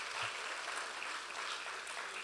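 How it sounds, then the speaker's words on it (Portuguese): A church congregation applauds with a steady, dense wash of clapping that holds at an even level throughout, and no voices can be heard. "dá uma salva de palmas ao Senhor"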